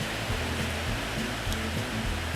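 A 1906 F E Reed 16-inch lathe runs steadily, giving a continuous low mechanical hum and whir with a faint rhythmic pulsing and no pauses.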